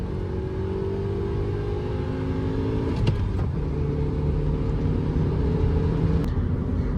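A 2007 Honda Accord with a K24 engine revs steadily with a droning rumble and rising harmonics, a couple of brief sharper bursts partway through, heard close and alone.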